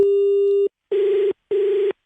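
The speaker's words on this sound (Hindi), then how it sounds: "फोन कट जा रहा है। नेटवर्क क्या हो गया है?" A phone call cutting off mid-conversation on a prank call gives a loud, steady electronic disconnect tone: one long sustained beep followed by two shorter, evenly spaced beeps with silence between them.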